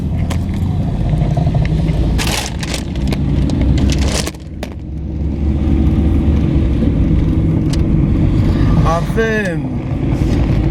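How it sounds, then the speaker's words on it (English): A car rattles and rumbles over a rough road, giving a loud, continuous close-up drone with sharp knocks and clatters layered on top, while people talk inside. "Can you hear it rattling? It's rattling like anything."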